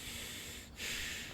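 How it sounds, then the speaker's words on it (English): A person blows their nose near the microphone, two hissing bursts of air through the nostrils broken by a short pause, close and fairly loud. "do apologise, readers, for blowing my nose on stream"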